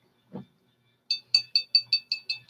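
A glass bottle of budget whiskey clinks: one soft knock, then a rapid run of about eight bright, ringing taps in an even rhythm, close and clear against silence.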